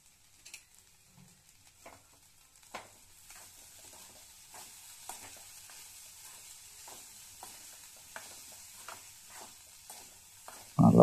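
Raw banana poriyal tossed with masala in a pan, soft sizzling under a run of regular spatula scrapes and taps, close up, ending in a sudden loud knock.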